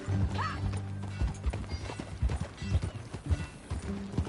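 Horse hooves clip-clopping in a steady uneven rhythm at close range, with mechanical creaks underneath and a brief whinny-like call early on; no one speaks.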